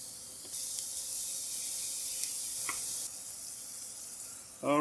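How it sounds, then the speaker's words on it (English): Butter hisses in a pan with onions and mushrooms for a creamy southern German ragout, a soft steady sizzle that sharpens midway and is capped by a brief louder clatter at the end. "I'm gonna add my butter."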